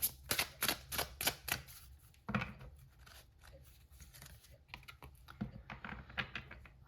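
Cards being shuffled and drawn during a full moon tarot reading: a quick run of crisp riffling flicks at the start, then softer slides and taps as a card is pulled, close and fairly quiet, with no talking.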